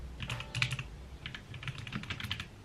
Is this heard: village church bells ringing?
no